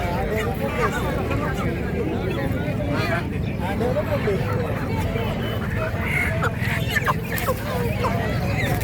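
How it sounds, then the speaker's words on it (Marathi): Desi cross-breed chickens cluck and squawk at a busy poultry market in Lonand, Maharashtra, heard amid steady crowd chatter and people talking nearby. "गावरान टिपिक क्रॉस कोंबड्या कोंबड्या आहेत"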